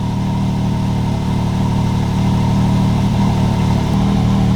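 Off-road vehicle engine running at a steady idle, being readied for the Glamis dunes: a loud, close, even low rumble with a constant mechanical drone and no voices.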